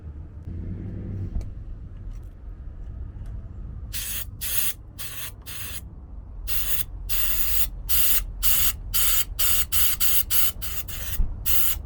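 Compressed air duster blasting into a van's Webasto diesel heater: about a dozen sharp, loud hissing bursts in an irregular rhythm, some short and some longer, over a low steady rumble.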